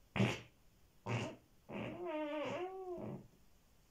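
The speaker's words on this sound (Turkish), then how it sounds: "Osuruyorum." Three low, rasping fart sounds in a quiet room: two short bursts followed by a longer, wavering one.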